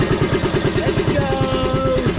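A boat's engines run close by, giving a loud, even mechanical throb with a fast regular pulse, and a faint voice appears briefly partway through.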